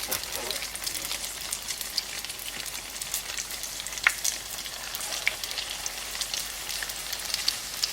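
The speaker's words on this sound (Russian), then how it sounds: "Немножко стреляет масло, будьте осторожны." Pirozhki frying in hot, spattering oil in a village kitchen, a steady close sizzle with scattered sharp pops and crackles throughout.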